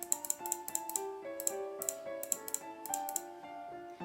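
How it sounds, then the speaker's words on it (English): Quick, light clicks from a computer mouse, a few in short bursts and others spaced apart, close and crisp over a soft, steady musical backing with no voices. "just click on the screen"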